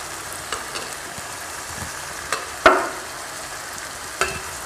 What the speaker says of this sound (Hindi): ये देखिए चावल डाल दिए मैंने। अब हम इनको मिला लेते हैं।